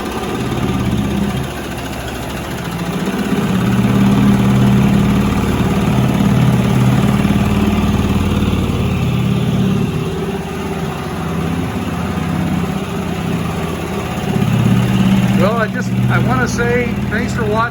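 A 1973 Mercury 40 hp Model 402 outboard motor runs in forward gear with a steady, loud low drone held for the whole stretch, and a brief whine rises near the end.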